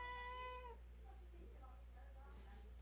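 A pet cat named Aria lets out one long, clear meow, followed by a few softer, shorter meows over a quiet room hum.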